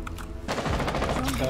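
Rapid automatic gunfire in Rainbow Six Siege erupts loud and close, with a dense stream of shots running through the whole moment, while voices are heard underneath.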